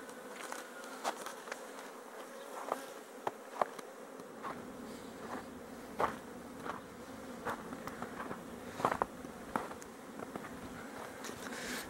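Honeybees hum in a steady, dense buzz close by at a hive in February, with occasional louder passes and faint ticks, no talking.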